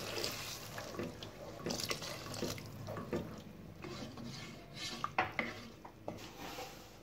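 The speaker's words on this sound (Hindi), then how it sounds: "अब हम इसमें थोड़ा सा पानी ऐड करेंगे।" A little water poured into a pan of masala peas curry and stirred in, with splashy pouring, spoon scraping and knocks against the pot over a faint sizzle, close by with no talk.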